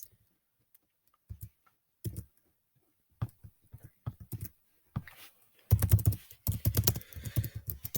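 A computer keyboard is typed on in short bursts of clicking keystrokes, sparse at first with gaps of silence, then a denser, faster run of taps toward the end, close and moderately quiet.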